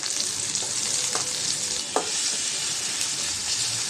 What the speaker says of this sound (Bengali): পেঁয়াজটা একটু ভেজে নেব হালকা করে।